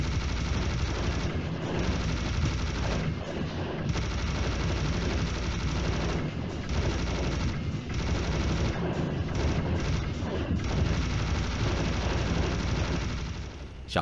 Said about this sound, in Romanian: Minigun-ul este întotdeauna satisfăcător de folosit și versatil pentru foarte multe situații.